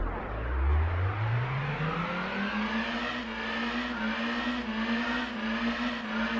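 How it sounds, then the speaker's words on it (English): A car engine in the Gran Turismo 2 racing game climbs steadily in pitch as it accelerates, a strained droning whine that keeps rising throughout and sounds alone, without voices. "That engine noise is painful."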